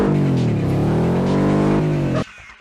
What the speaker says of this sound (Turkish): Araba bağırıyor.